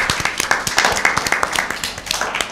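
Audience applause for Team B at a Lent season Bible quiz, a dense crowd of many hands clapping steadily for a couple of seconds, close and lively with no talk over it.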